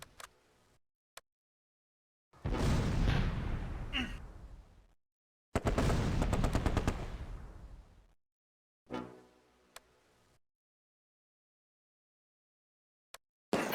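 Vickers machine gun bursts in a Close Combat World War II battle game at Oosterbeek, three long rattling bursts of a couple of seconds each, loud and close, separated by silence with a few faint ticks.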